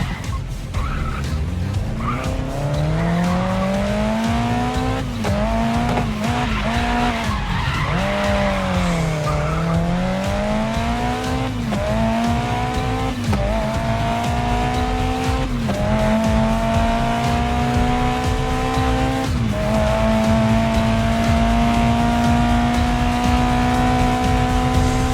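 A race car in GRID Legends slides through a corner on the handbrake, its tires squealing loudly over a steady, rising and falling engine roar that swells and dips as the car drifts and then powers out.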